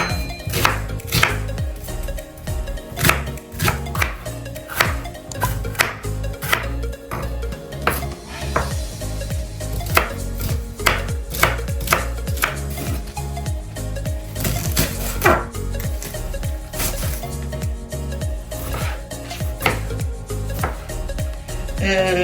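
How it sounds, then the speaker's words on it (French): Knife coarsely chopping condiments and crushed spices on a board while preparing braised fish in a pan: a long run of rapid, loud, irregular sharp chops with occasional clinks of utensils, close up. "je vais découper grossièrement les condiments"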